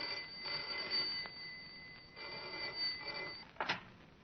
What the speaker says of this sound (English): Yet the trouble first appeared as the commonplace ringing of a telephone.